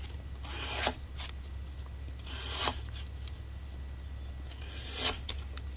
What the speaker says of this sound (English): That narrow blade just sails right through the cardboard without any real effort.